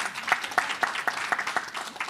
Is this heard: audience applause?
yes